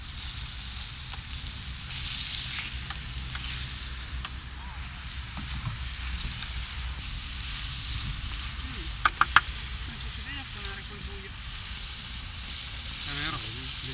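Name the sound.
food cooking on high flame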